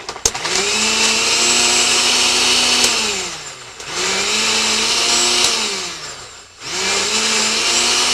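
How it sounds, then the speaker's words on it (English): An Osterizer blender grinds a paste for fish in three long, loud whirring runs, the motor pitch dropping slightly under load, with brief pauses between runs. "Now we're going to osterize this, or blend it properly, grind it up, and we'll have a nice paste for our fish."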